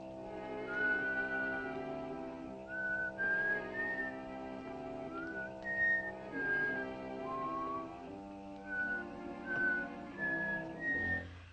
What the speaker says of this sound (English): Why does she keep on whistling for?